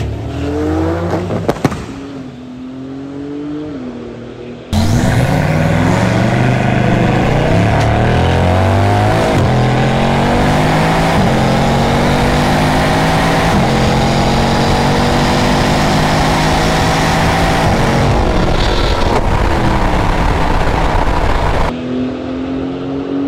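A Bugatti Chiron and a Porsche Turbo S launch in a quarter-mile drag race, with a brief quiet wait and then a sudden loud roar. Engines rev hard through rising gear sweeps for about seventeen seconds before the sound drops away.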